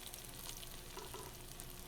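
Onions frying in a pan, with burnt ones pushed to the centre and less cooked ones around them, give a steady, even sizzle that runs without a break.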